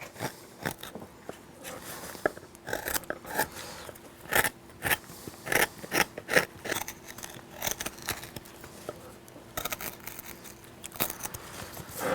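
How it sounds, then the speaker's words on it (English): A chisel hand-carves cottonwood in repeated short, crisp cuts, crunching and tearing through the wood in an irregular rhythm, heard close and moderately loud with no voices. "If your chisels are dull, you're really going to see some crunching and tearing going on."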